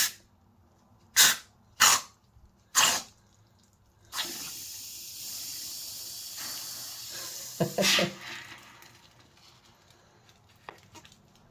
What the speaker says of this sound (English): Ooh, it's fizzing.